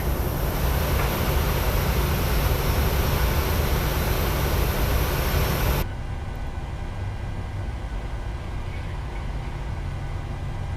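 A simulated airliner rolls for takeoff in Microsoft Flight Simulator 2020, a loud, steady broadband engine roar that drops abruptly to a quieter, even rumble partway through.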